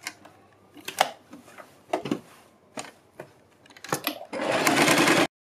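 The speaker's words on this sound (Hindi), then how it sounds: "यहाँ पर हम इसको इस तरह से इसके ऊपर हम सिलाई लगा देंगे" A sewing machine stitches a seam on a kurti in several short, close bursts of whirring, with a longer steady run of stitching at the end and no talking.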